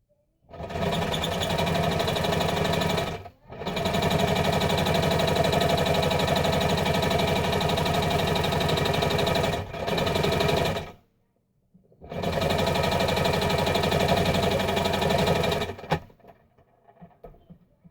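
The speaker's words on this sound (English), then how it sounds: "I'm just going to sew it right along that edge there, so it'll be attached without seeing the seam" A sewing machine stitching along the edge of a tote bag seam, loud and close, running in three long steady bursts with brief pauses between them and no talking.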